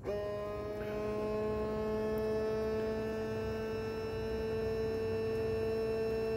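An ABS hydraulic unit sits on a test machine while it pressurizes, giving a steady, continuous electric hum with a clear tone. It holds evenly throughout at moderate level, with no speech.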